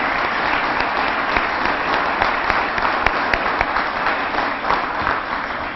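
A room full of people at a city council meeting applauds, a dense and even wash of clapping that holds steady at full volume from start to finish.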